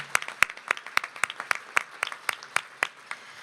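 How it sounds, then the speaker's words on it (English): Sparse applause from an audience at a city's State of the City address, a dozen or so distinct claps in an irregular rhythm, fairly close and moderately loud, with no talking over it. "It's worth clapping"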